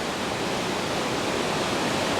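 Reichenbach Falls, a Swiss waterfall, roars with a steady, dense rushing wash heard up close, loud and unbroken throughout with no voices.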